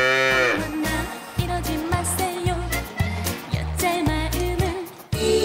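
Dairy cows moo in a barn, with a drawn-out low call near the start. Rhythmic trot music with a thumping beat plays loudly underneath throughout.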